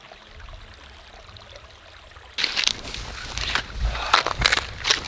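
Water flows in a stream in Australian alpine wilderness, starting as a faint steady trickle, then turning into louder splashing and gurgling bursts nearby.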